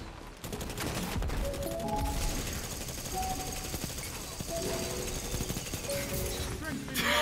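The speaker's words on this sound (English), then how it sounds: "This gun is absurd when it's charged up" A charged-up gun in a video game fires a relentless, very rapid stream of rounds, loud and close for nearly the whole stretch, while other game sounds chime faintly and voices talk over it.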